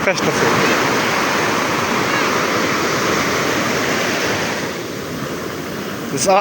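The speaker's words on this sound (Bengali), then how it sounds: "আবার ঢেউ আমাকে স্তব্ধ হয়ে যায়" Ocean waves crashing on the beach at Kerteh, Terengganu, Malaysia, a loud continuous roaring surf wash that eases slightly toward the end, with wind buffeting the microphone.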